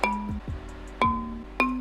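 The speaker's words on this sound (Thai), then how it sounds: "อันนี้คือเสียงระนาดที่เราไปอัดมา" Several wooden bars of a Thai ranat xylophone struck one at a time, each hit ringing briefly with a bright, hollow tone, played slowly and close up.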